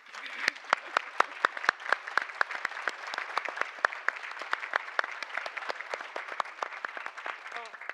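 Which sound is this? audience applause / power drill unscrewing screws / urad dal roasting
audience applause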